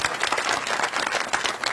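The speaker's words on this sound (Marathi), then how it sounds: "एकदा जोरदार टाळ्या वाजवा बरं" Audience applause at a Marathi Warkari kirtan for the mridangam accompanist: a dense, steady burst of many hands clapping together through the brief moment, with no voices on top.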